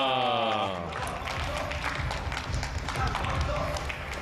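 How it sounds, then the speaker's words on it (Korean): Audience clapping at a PBA billiards team league match, a dense patter of many hands that swells after a tone fades at the start, with a commentator's voice faintly over it. "박수를 잘 쳐주고 있어요"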